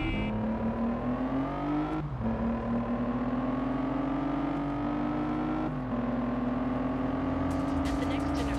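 Racing car engines in the game Test Drive Unlimited, including a Noble, rise steadily in pitch with abrupt drops at gear shifts, a continuous loud drone while people talk over it.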